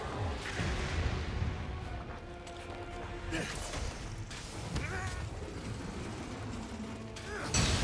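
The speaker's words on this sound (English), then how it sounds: "Big explosion." A large explosion in the Monster Hunter game during a fight against Scorned Magnamalo, a loud booming burst within dense, continuous battle noise and effects that stay heavy throughout.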